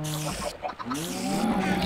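Cows mooing in the video game Minecraft, drawn-out lowing calls that follow one another closely and sound loud and near.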